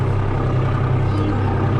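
A tractor engine drones steadily and loudly up close, a constant low rumble as it is given a little throttle on a rural road.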